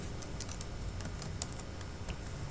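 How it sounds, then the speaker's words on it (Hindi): Typing on a computer keyboard while entering a sentence in Word: a steady run of close, crisp key clicks with a few louder strikes, and no talking. "वर्ड के अंदर मैं ये सेंटेंस लिखता हूँ"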